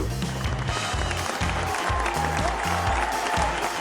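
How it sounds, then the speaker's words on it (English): An audience applauds steadily and fairly loudly to welcome a guest speaker at a conference, with a dense clapping that fills the whole stretch. "Make some noise for Aditya Kaddu"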